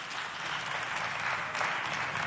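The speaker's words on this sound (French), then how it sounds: "Applaudissez-les bien fort, s'il vous plaît" An audience at a neighborhood youth quiz game between two community teams applauds in a short, even burst of clapping that runs without a break.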